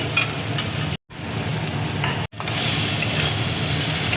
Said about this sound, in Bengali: এবার দেখো বড়িটা আমি দিয়ে দিচ্ছি